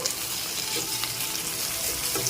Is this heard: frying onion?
yes